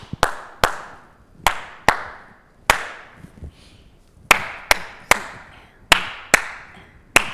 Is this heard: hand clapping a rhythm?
yes